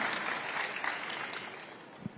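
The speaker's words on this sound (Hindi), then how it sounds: "जोरदार तालियों से स्वागत कीजिए" A studio audience gives a round of applause welcoming Chirag Paswan, India's Union Minister of Food Processing Industries, with dense, steady clapping that fades slightly toward the end.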